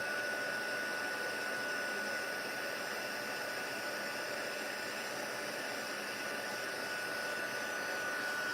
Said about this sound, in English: I'm just heat embossing with using silver embossing powder.